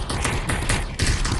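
AK rifle gunfire in the animal battle game Animal Rivals, a loud, steady burst of rapid automatic shots, close and sustained without pause.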